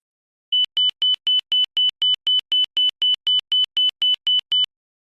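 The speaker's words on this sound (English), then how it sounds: "It illuminates a white light in the cockpit and emits a Morse tone of 1 points per second." An ILS inner marker beacon sounds its high 3000 Hz Morse tone as a rapid, evenly spaced series of about eighteen short identical dots, loud and clean against silence.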